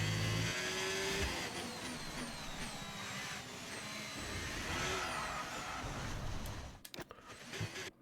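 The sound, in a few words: F1 car engine in F1 25 video game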